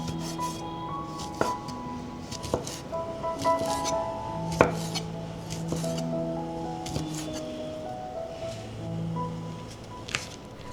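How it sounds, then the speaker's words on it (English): A knife slices two sausages into thin rounds on a cutting board. Steady, close chopping taps repeat at an irregular rhythm and stay fairly soft, with no talking. "Slice 2 sausages into thin rounds."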